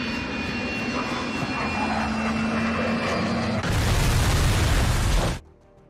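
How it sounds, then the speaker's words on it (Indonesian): An airplane in a film roars low over a beach as if about to crash, a loud, dense engine rumble that swells into a heavier blast before cutting off sharply. "muncul pesawat lain yang nampak akan jatuh di area pantai"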